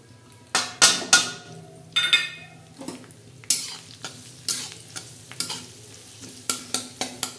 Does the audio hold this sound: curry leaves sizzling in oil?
yes